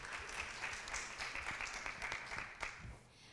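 A roomful of listeners at a youth forum closing ceremony claps steadily for a student group presenting on alcohol, tobacco and substance use, a dense even patter with no voices over it.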